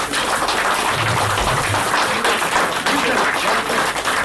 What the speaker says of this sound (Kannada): ಖಾಲಿ ಇರೋರು ಚಪ್ಪಾಳೆ ಹೊಡಿಬೇಕು